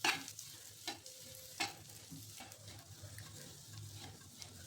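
Spice masala for stuffed bitter gourd frying in a pan, a soft steady sizzle with a few sharp stirring scrapes near the start, close and fairly quiet, no talking.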